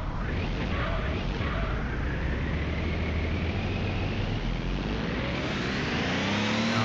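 A car engine in Gran Turismo on the PS1 drones and revs steadily throughout, loud and close, with shifting pitch sweeps as the car accelerates.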